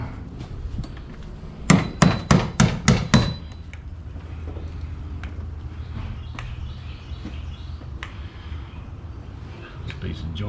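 A hammer strikes a house wall during bee removal from between floors: five sharp, evenly spaced blows in quick succession, then quieter scattered knocks, with people talking nearby.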